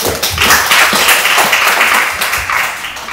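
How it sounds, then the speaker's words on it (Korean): An audience claps at a conference debate on pharmaceutical policy, a loud, dense wash of applause that holds steady throughout and fades slightly at the end. "시간도 남았는데 박수 한번 주시죠"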